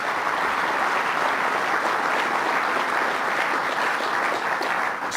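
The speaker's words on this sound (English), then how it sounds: "Give a round of applause to the great Chancellor." A crowd gives loud, dense, steady applause to the SUNY chancellor at an event where Governor Cuomo approves Stony Brook's NYSUNY2020 application. The clapping continues without a break from start to finish.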